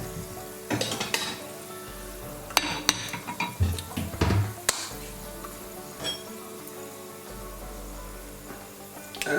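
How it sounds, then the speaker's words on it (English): Cardamom and spices sizzle in a cooking pot for lamb korma while a spoon stirs them, sending out clinks and scrapes against the metal in irregular bursts over a constant frying hiss, close up with no talking. "Just give it a bit of stir."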